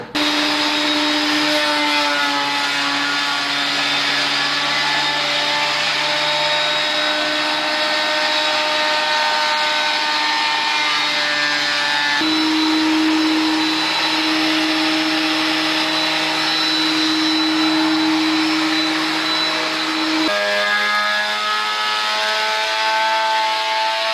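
A thickness planer feeds boards for an edge-grain butcher block bench built from 2x4s, a steady loud whine running throughout with pitch shifts as each board enters and leaves the cutter, no voices.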